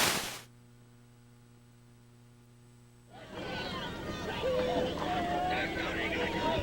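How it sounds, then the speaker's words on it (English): Rowing boats racing in a youth nationals final, coxes urging their crews; a quiet hum gives way to a busy open-air mix of splashing, voices and calls that grows louder. "Listen to those boats."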